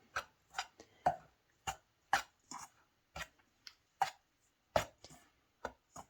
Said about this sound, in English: now I'm going to mix everything together so it's all mixed up